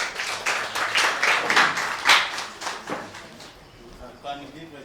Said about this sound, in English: Can you clap hands for them?